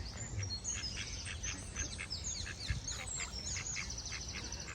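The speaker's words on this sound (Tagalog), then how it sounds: "That is real duck." Ducks being fed in London give repeated nasal quacks in quick bursts across the whole stretch, moderately close, with a few chirps among them and no voices.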